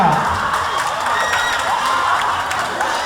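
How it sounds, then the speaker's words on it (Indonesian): Audience at a university stand-up comedy show breaks into steady, dense applause lasting the whole stretch, with scattered cheers and whoops mixed into the clapping. "Tepuk tangan untuk semuanya."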